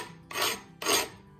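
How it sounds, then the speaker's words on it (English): A hand scraper rasps twice across a painted piece, knocking loose chippy paint off a plaid-and-rust finished surface; two strong, close strokes, each about half a second, with no talk. "I'm actually going to scrape down"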